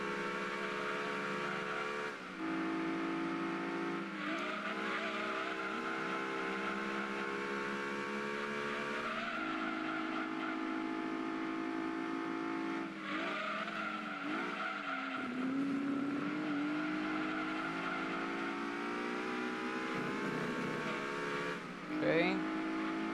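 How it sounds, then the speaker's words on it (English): A Mazda RX-7 race car in the Gran Turismo 2 video game, with a high, sustained engine whine that rises and drops through repeated gear shifts, plus brief tire squeals, heard over a long stretch of racing with a voice talking over it. "The RX-7 is arriving and fast."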